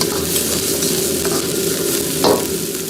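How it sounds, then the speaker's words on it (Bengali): Chopped ginger and green chili frying in a pan, with a steady close sizzle and light stirring scrapes, plus one brief louder clink near the end. "তারপর একটু গ্রিন চিলি চপিং, একটু ভালো করে নাড়িয়ে নেবো একটু।"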